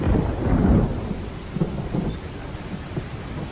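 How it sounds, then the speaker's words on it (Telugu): A movie scene with a heavy rumble of thunder over steady falling rain, the low roll strongest at first and fading as the rain's hiss continues. "వర్షం వచ్చేలా ఉందండి."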